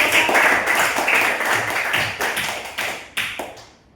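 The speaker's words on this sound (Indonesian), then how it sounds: "berikan dulu tepuk tangan" An audience in a classroom training session claps hands for a few seconds, with crisp individual claps standing out from the group before it fades to silence.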